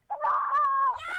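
A single loud, close fowl call, a drawn-out honking squawk from a chicken, heard alone in a rural Filipino morning setting.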